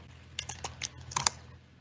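A short run of close computer keyboard keystrokes, with about eight clicky taps in an uneven rhythm and a couple of louder hits near the end, typed in quiet surroundings with no voices.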